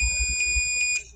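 A multimeter on its continuity setting beeps as its test probes are touched together during electrical resistance measurement, giving a few short, close electronic tones over a low background hum.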